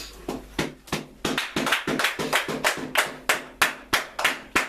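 A church congregation claps in praise, with roughly two dozen sharp, fairly even claps in a quick steady rhythm, close and loud, and no talking over them.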